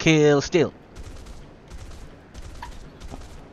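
Gunfire from the Pinoy Squadron video game comes as faint, scattered bursts of rapid shots behind a loud opening tone.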